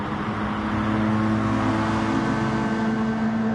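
Race car engines in Gran Turismo Sport drone steadily at a sustained pitch, a McLaren and a Porsche racing nearby, with a faint revving rise and no talk.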